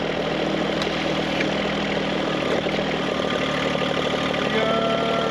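A hydraulic system's engine idles steadily at about 105 degrees, a constant, dense mid-to-low rumble with a faint whine on top, running alone at close range.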